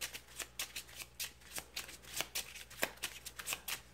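Villain cards from the DC Deck Building Game are shuffled by hand, giving a quick series of soft riffling card snaps that repeat steadily, close and fairly quiet.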